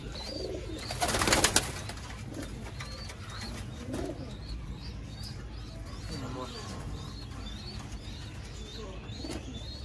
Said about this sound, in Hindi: इस वीडियो में मैं और नादिर भाई ने आपको सियालकोटी छत वाले कबूतरों का शौक करवाया।